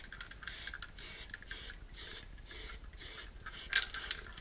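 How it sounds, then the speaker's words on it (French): Aerosol spray can of acrylic paint hissing in repeated short bursts of about half a second, evenly spaced, close and moderately loud with no talk. "Je peux pulvériser de gauche à droite et de haut en bas."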